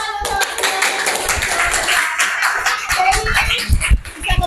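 A seventh-grade class applauds in a classroom, with uneven bursts of clapping and shuffling that swell toward the end, fairly close and loud.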